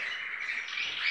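Young canaries in a breeding room chirp continuously in a dense, bright twittering. The sound is close, fairly loud and heard alone.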